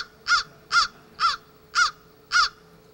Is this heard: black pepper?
no